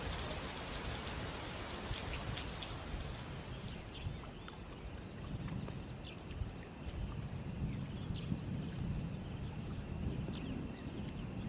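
Steady rain falls across an open savanna during the short October rainy season, a dense, even hiss of drops hitting the ground with faint scattered ticks, continuous and unbroken with no voices.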